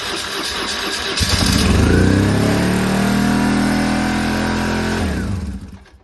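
A BMW R1150GS motorcycle engine, a project bike with a throttle cable that may be sticking, starts and runs loudly nearby, holding a steady revved drone for several seconds before dropping off at the end.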